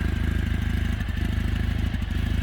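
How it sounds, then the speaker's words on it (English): A 2019 Kawasaki W800 Cafe motorcycle with its stock factory exhaust idles close by, a steady, even, rhythmic thumping pulse that runs throughout, loud and alone. "It's a pretty nice sound from the factory exhaust."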